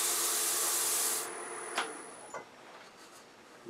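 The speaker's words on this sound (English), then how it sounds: "I had a pretty good cut, so I'm starting with 180 grit." A wood turning spins on the lathe while 180 grit sandpaper is held against it, giving a loud broadband rushing hiss for just over a second before it stops, followed by a few faint knocks and handling sounds.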